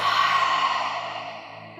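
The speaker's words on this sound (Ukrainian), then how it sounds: "Відкрити рот, зробіть видих" A single deep exhale pushed out through an open mouth during a yoga stretch for the hips, a breathy rush that starts strong and slowly fades over nearly two seconds, close and alone with no talking.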